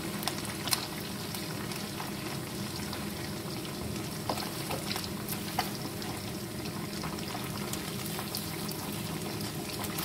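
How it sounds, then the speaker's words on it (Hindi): Fish fingers frying in hot oil in a pan, a steady dense sizzle with small crackles throughout, close and continuous with no talk. "फिश हमारी अच्छी सी फ्राई हो चुकी है।"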